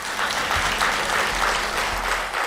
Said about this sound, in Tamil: ஏன் ஓங்கி கைதட்டுறா தெரியுமா?